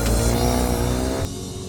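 A Honda Goldwing motorcycle engine runs close by, a loud steady drone with a rich harmonic hum. Its level drops abruptly near the end as the note settles lower, with no voices over it.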